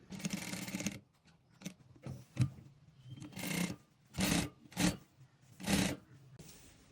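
A sewing machine stitches a princess line frock in bursts, its rapid mechanical chatter starting and stopping several times with short quiet pauses between runs, close and moderately loud.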